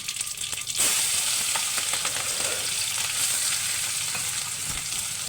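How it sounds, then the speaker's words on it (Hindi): Mustard seeds, cumin and asafoetida sizzle in hot oil, a steady loud frying hiss that flares up sharply as the spices hit the pan, with faint popping crackles throughout. "जैसे ऑयल गर्म हो जाए तो उसमें राई जीरा हींग डाल देंगे।"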